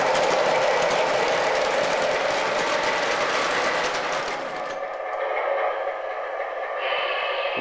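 Lionel and MTH model trains run on a home layout with passenger cars, giving a steady close rolling rumble and clatter that thins out partway through, leaving a lighter hum and faint clicking.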